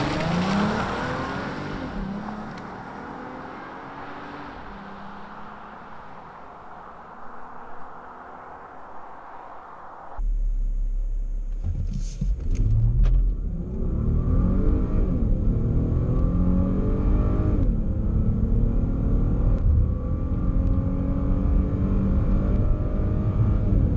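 2019 Volkswagen Atlas SE R-Line driving on the road, a steady engine and road rumble heard from inside the vehicle, growing louder and fuller partway through, with continuous tire noise and no talking.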